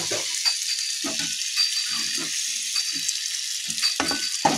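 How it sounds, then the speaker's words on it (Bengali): A pan stirred while cooking, with a steady hiss of frying broken by repeated short scraping and knocking strokes of the spoon, close and fairly loud. "তখন নেড়ে জল দিয়ে দিই।"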